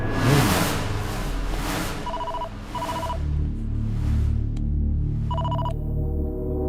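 A telephone rings in short repeated bursts, three electronic trills spaced about a second apart over a low background hum.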